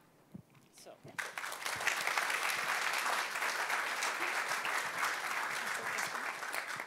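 A conference audience at the opening day of SEMANTiCS 2023 breaks into sustained applause after a quiet second, the clapping dense and even to the end.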